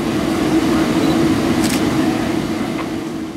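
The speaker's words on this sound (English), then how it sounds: "This one is AO 2914, a ballast work train for the Homestead sub." CSX ballast work train on the Homestead subdivision rolling past, a steady low rumble and rolling drone close by and fairly loud, with faint higher squeals rising briefly over it.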